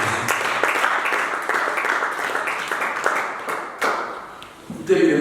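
A church audience in a French-language evangelical service applauds and cheers for Jesus. Steady clapping continues throughout at moderate loudness, and voices rise over it.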